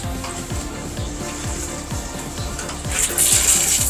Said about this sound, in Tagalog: bubuksan natin yung shower kung magsisingaw-singaw pa ba yung tubig dito sa taas